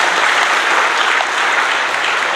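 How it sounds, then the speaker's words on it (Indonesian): A church congregation applauds Jesus Christ during a sermon, a loud, thick wash of clapping that fills the space evenly from start to finish with no pauses. "Beri tepuk tangan buat Tuhan kita Yesus Kristus"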